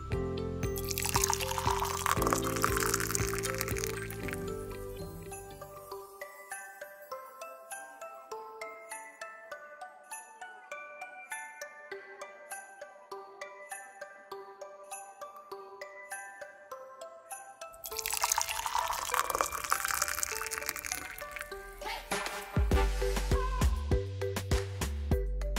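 Coffee and hot cocoa being poured, with a burst of splashing and trickling at the start and another near the end, set against soft background music that carries on alone in between.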